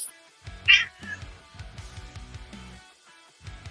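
Cat meowing up close, several short insistent meows in quick succession with brief pauses between them, fairly loud and clear.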